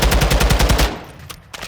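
An assault rifle in Call of Duty: Modern Warfare II fires a loud, rapid automatic burst of about a dozen close shots, followed by a few scattered single cracks and fading echo.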